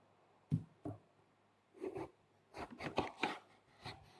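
Knife chopping onion, tomato and garlic into cubes on a board, a few sharp separate cuts followed by clusters of quicker taps, close and fairly quiet, with no voices.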